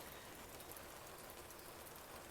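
Rain falls steadily on a raspberry garden, a dense, even patter of drops that fills the whole stretch at close range with no pauses and no talking.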